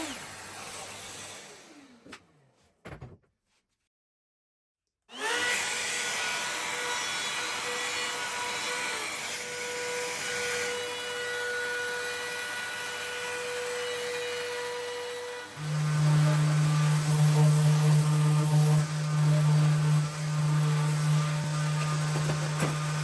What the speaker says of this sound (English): I'm adding a little handle cutout into the seat with a router